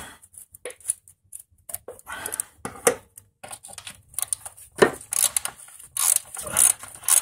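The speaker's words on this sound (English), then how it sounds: "Pretty good ratchet set." Husky ratchet tightening a lawn mower blade bolt gives irregular bursts of quick clicking and metallic scrapes, close and moderately loud, with short pauses between strokes.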